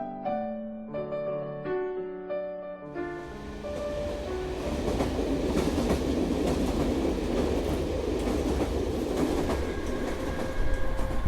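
A train rolling along rails, steady rumbling and clattering building in after a few seconds of musical notes, then holding loud and continuous to the end with no voices.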